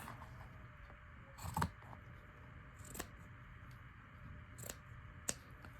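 Scissors cut through a notebook cover, a few quiet, separate snips spread across a hushed close-up scene.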